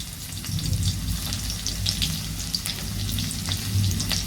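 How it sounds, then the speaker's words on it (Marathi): Chopped garlic fries in hot oil for a fenugreek-greens dish, giving a steady close crackling sizzle with fine pops throughout, no voices. "तेल आपलं तापलेलं आहे त्याच्यामध्ये मी लसूण टाकणार आहे"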